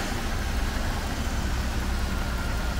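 A Mercedes CL600 V12 engine idles steadily and smoothly, a continuous low rumble held at an even level with no voices over it.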